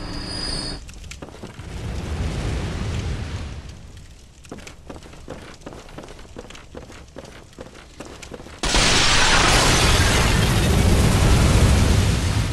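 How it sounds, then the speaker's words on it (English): Explosions from volatile canisters in the Bloodborne video game, rumbling noisy blasts with crackling bursts, ending in a sudden loud, sustained roar of debris and fire. "Those canisters are volatile to bullets and will explode"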